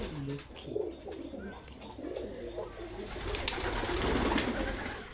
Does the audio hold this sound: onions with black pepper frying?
no